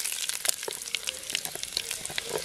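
Cumin seeds and dried red chili frying in hot oil, a close, steady crackling sizzle with quick popping bursts, heard alone without talk.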